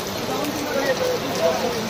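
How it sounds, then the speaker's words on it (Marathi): Steady heavy monsoon rain hisses across the surface near a Ganesh festival pavilion in Mumbai, a dense continuous patter with a faint voice somewhere beneath it. "भरपूर जोरात पाऊस चालू झाला आहे."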